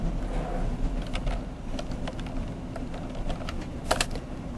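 Keys clatter steadily on a computer keyboard in a quiet room, a fast run of light clicks ending with a firmer press of the enter key.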